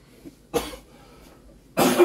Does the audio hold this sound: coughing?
yes